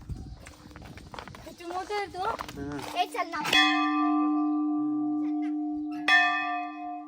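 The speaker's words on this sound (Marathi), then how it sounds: "ते घंटा वाजून बघ ना मंदिराचा" A temple bell is struck once, then again after a few seconds, each ring sustaining and slowly fading; people talk beforehand.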